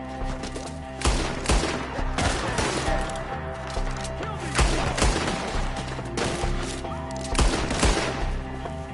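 Repeated bursts of gunfire in a Red Dead Redemption shootout at Beecher's Hope, loud volleys recurring every second or two over a dense, continuous background of battle noise.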